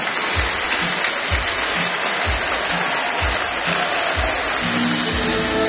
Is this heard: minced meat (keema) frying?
no